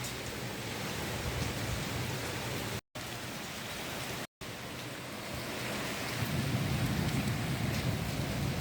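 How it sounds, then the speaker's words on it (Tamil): Heavy rain pours down steadily in a continuous wash of dense hiss, briefly cut out twice and swelling slightly toward the end, with no voices. "மழையோ மழை, கொட்டுன்னு கொட்டுது."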